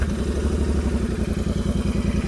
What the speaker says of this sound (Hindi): अब विदाउट एग्जॉस्ट एक बार स्टार्ट करके देखते हैं कि कैसा साउंड आता है।